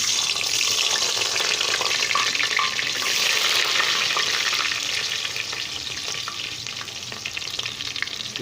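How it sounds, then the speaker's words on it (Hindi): Onions sizzle and fry in hot cooking oil for a home-style dal chawal, a steady loud crackling hiss with occasional stirring scrapes throughout, no voices. "इसमें पहले मैं प्याज शामिल करता हूँ।"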